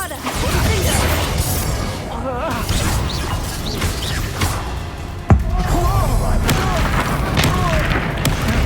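Bombarda spell blasts in Hogwarts Legacy go off amid game action, with booming thuds and crashing debris, one sharp loud impact near the middle, under continuous rumbling effects.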